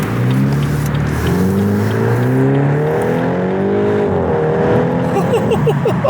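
A BMW 125i with an upgraded exhaust, set to sport mode, revs loudly up and down close by, its engine note rising and falling with crackling pops near the end.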